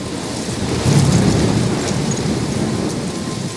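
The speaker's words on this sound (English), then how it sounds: "I'm trapped in a storm?" A loud thunderstorm in the video game Life is Strange, steady heavy rain with a deep rolling rumble of thunder swelling near the start and fading beneath the downpour.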